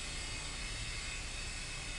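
A radio-controlled helicopter flies close by, its rotor and motor making a steady, dense whir that stays loud and even throughout with no talk.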